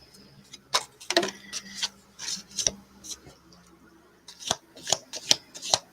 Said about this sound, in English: These little things are hard to shuffle.